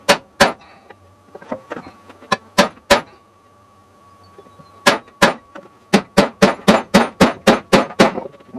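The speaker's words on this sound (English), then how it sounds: "I need a much bigger hammer" Repeated sharp metal hammer blows on a go-kart wheel rim, spaced out at first, then a fast steady run of strikes near the end, with a faint hum underneath.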